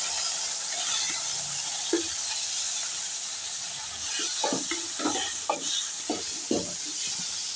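Curry leaves and tomato go into hot oil with mustard seeds for a mealmaker kuzhambu, giving a steady background sizzle. A run of utensil scrapes and clinks from stirring picks up in the second half.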